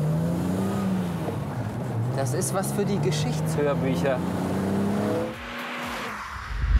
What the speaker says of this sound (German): Typischer Sechszylinder BMW-Sound. Aber nicht laut, nicht aggressiv.